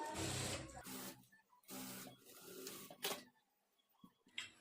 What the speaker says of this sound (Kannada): ಈ ಥರ ಸ್ಟಿಚ್ ಮಾಡಿಕೊಂಡು ಇದ್ರ ಮೇಲೆ ಡಬಲ್ ಸ್ಟಿಚ್ ಹಾಕ್ಕೊಳ್ಬೇಕು